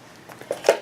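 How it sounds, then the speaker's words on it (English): Scissors snip through a length of silver 1/8-inch ribbon while making a card, giving two quick, close crisp cuts in a row against a quiet room. "we're going to take this silver 1/8 ribbon, and we're just going to cut a piece of that"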